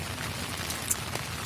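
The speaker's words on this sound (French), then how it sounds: "Et oui, c'est la pluie qu'on entend." Light rain falling outdoors while a windlass is fitted to a small boat, a faint steady patter of drops with a couple of slightly louder taps, no voices.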